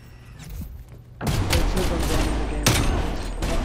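A gunshot headshot in a video game arrives as an abrupt loud burst of gunfire after a quieter lead-in, followed by further sharp shots and thumps, close and dense.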